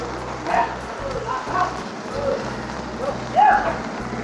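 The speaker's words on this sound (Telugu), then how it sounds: "బాగా వర్షం పడుతుంది" Heavy rain falls at night on a street in Dhoolpet, Hyderabad, as a steady close wash of hiss, with a few brief yelping barks from a dog rising above it.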